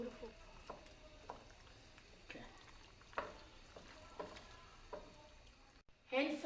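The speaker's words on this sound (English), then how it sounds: "Toast some shelled pistachio right in a frying pan" Shelled pistachios toast in a dry frying pan, giving a faint, steady sizzle broken by soft stirring scrapes and light clicks, with a louder clatter near the end.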